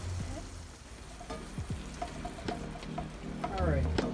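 Bratwurst and sauerkraut frying in olive oil over low heat, making a steady close sizzle with crackles and stirring scrapes while a voice talks over it.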